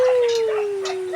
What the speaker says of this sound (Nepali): माथि बसेर भुक्छ